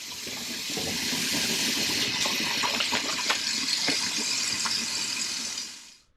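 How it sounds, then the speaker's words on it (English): Hot soapy water runs steadily from a tap over hands being washed in a kitchen sink, a close continuous gushing splash lasting several seconds before cutting off. "I'm going to wash my hands in really hot, soapy water"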